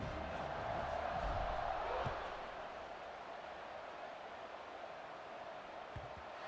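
A large stadium crowd roars in a broad, steady wash in a college football video game, louder for the first two seconds and then settling into a lower sustained murmur.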